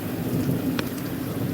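A thunderstorm with steady rain falling outside, a brief crack of thunder breaking through the constant patter of rain.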